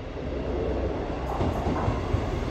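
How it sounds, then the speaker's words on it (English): A ScotRail class 158 local diesel train to Hull runs steadily near Goole Swing Bridge, a continuous rumble of wheels and engine with rail clatter, loud and close throughout. "This is the train to Hull. It's another local service"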